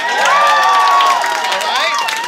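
A live comedy audience at a loft show cheers and applauds loudly, with whoops and shouts rising over a dense, sustained crowd roar that stays near and full for the whole stretch.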